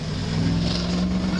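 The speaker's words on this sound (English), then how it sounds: "That car sounds fucking mental, bro." Loud car engine rumbling past while cruising the streets of Frankston, a deep, throaty drone that swells slightly as it goes by, heard up close for a brief moment.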